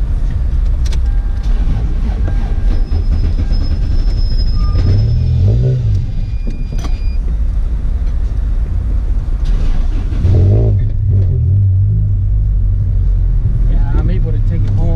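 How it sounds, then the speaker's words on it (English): A broken-down car's engine turns over and runs with a low, steady rumble, rising in pitch twice as it revs, while a person talks close by. "See if this car starts up real quick."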